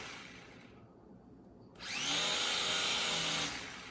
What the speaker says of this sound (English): your prop is gonna start spinning like that.